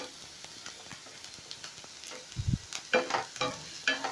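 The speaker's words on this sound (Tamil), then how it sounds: "நம்ம ஆனியன் நல்லா ஃப்ரை ஆகணும்" Two small, finely chopped onions fry in a pan, giving a faint, steady sizzle broken by light scraping clicks and a soft knock as the spatula stirs them, growing busier toward the end.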